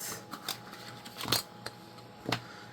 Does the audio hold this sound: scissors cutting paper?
yes